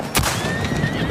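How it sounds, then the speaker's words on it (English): Racehorses, among the fastest in the world, whinny loudly in a single sustained neigh with a sharp onset, heard up close over faint hoof clip-clop at a racetrack. "These are the fastest horses in the world."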